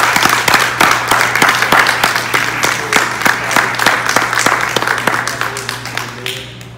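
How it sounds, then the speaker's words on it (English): A church congregation claps hands in a steady rhythm, loud and close, with a low hum underneath that fades toward the end. "give God a hand clap"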